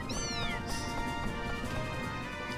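A cat character in the Fantasy Maiden Wars video game gives a clear, rising-then-falling meow near the start, over a continuous game music and sound-effect background.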